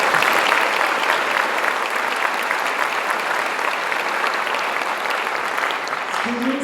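A graduation audience at Garcia Early College High School claps steadily, a sustained, fairly loud wash of applause that holds evenly throughout before fading at the very end.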